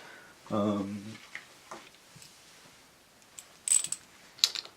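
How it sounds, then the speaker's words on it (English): A ratchet driving a bolt on a Suzuki DR 650 SE clutch lever, with a short burst of rapid clicking near the start followed by scattered metallic taps and clicks, close by and fairly quiet. "Use your ratchet to get it down in the hole there."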